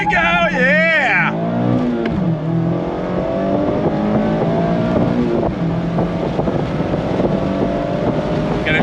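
A 2025 Mazda MX-5 Miata sports car engine pulls on throttle, its revs sweeping up sharply before settling into a strong, steady drone under heavy rushing wind noise.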